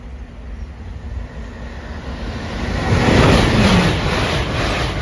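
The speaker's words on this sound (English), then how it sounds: "final train." A train rolls past the Rossington level crossing with a steady broad rumble that swells louder toward the middle and stays close, with a high whine over the top.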